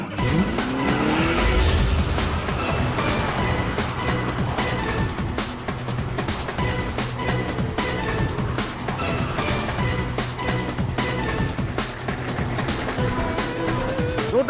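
Cartoon car skidding to a halt, a long continuous tire screech with engine roar filling the whole stretch, loud and close, with no voices heard.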